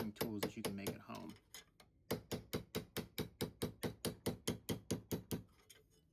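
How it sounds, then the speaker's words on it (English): A hammer strikes copper laid on a black iron pipe anvil in a steady, evenly spaced run of about seventeen sharp metallic taps, close and clear. Brief talk comes before the taps, followed by a short pause. "I'm trying to just use the hammer in the same striking position every time, and I'm actually moving the copper"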